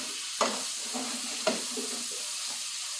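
Fried rice with cabbage and egg stirred and fried in a pan, with a steady close sizzle and two sharp scraping stirs of the utensil, followed by softer stirring.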